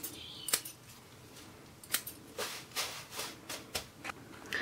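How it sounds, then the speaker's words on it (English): Scissors snip repeatedly in a steady rhythm, close by, cutting up bird treats, each cut a crisp sharp slice against quiet surroundings. "just cut it up with scissors and make it smaller"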